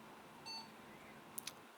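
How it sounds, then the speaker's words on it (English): A vintage computer from a Token Ring network setup sounds a single short, thin electronic beep on power-up, faint against a quiet room hum, with two tiny clicks following shortly after. "Got a beep. That's usually a good sign."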